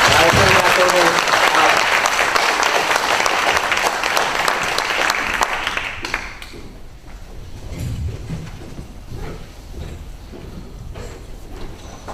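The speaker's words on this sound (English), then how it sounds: "Give Nathaniel another round of applause" Loud, dense applause from an audience after a president's report at a student meeting, filling the first six seconds before thinning into scattered claps and quiet murmuring.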